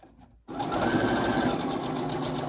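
A sewing machine stitching a bag starts up after a brief quiet moment, then runs in a steady, close, loud mechanical whir to the end.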